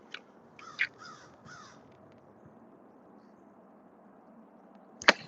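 A crow caws outdoors near a bridge in a quiet spot frequented by herons, a short run of three rasping calls early on, then a long hush before one loud, close caw at the end.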